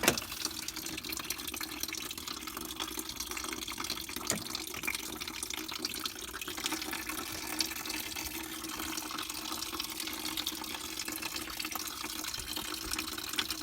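Coolant drains steadily from a 2005 Dodge Ram 1500 radiator into a bucket, making a continuous close trickling, splashing pour that holds an even level throughout with no talk.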